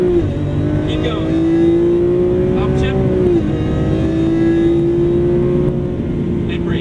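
A Lamborghini Aventador's engine pulls hard on a race track, a loud, steady close-up drone rising in pitch with a brief dip at an upshift, while a voice talks over it.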